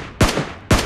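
Two sharp video game gunshots ring out about half a second apart, each a loud close crack with a short rumbling tail, and nobody speaks.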